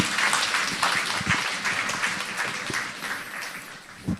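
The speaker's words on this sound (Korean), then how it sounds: "성공의 박수 한번 주십시오." Audience applause in a Q&A session, dense broadband clapping at moderate level for about four seconds, steady and then fading slightly, with a brief louder burst at the very end.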